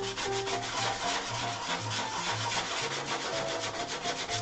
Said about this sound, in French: on peut juste mettre un petit coup de ponçage aussi sur les arêtes